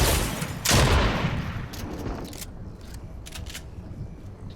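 Shotgun blasts in a Fortnite match, a loud, booming discharge near the start with a rolling tail, then a dense bed of game noise and smaller sharp clicks, close and heavy.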